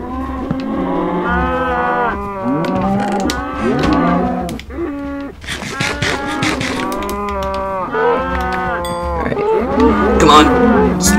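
Cows in the Minecraft video game moo repeatedly in overlapping, drawn-out calls, several animals lowing loudly and close together with hardly a pause.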